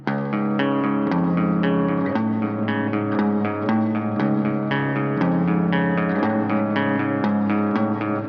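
A clean electric guitar plays the repeating clean part of a song, a steady picked pattern of ringing notes with a light chorus shimmer, continuous with no voices.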